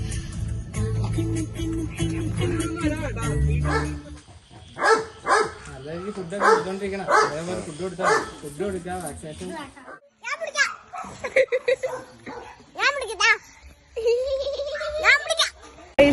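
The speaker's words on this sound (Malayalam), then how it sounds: "അങ്ങനെ പട്ടീനെ കിട്ടിയിട്ടുണ്ട്." A newly acquired puppy gives repeated short, high yips and barks in bursts, mixed with children's voices and adult talk nearby.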